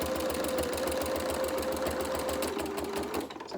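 A sewing machine back tacks stitching on a fabric advent calendar, a fast regular mechanical whirr and clatter close by, running steadily and then slowing to a stop at the end.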